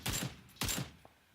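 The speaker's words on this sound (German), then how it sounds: "Ich werde beschossen." Two sharp gunshot blasts in a video game, each followed by a short decaying echo, spaced about half a second apart and fairly faint.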